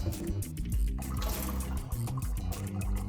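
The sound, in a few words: wetting a white foam cleaning block in water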